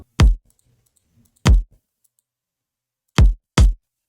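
Kick drum sample from the Shadow Samples pack, four short punchy hits played alone with uneven gaps, each with a sharp click and a brief low thump, loud and close with silence between.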